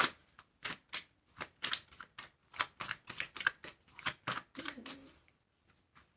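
Tarot cards are shuffled by hand in a steady run of crisp, papery riffling strokes, about a dozen evenly spaced flicks that trail off into quiet at the end.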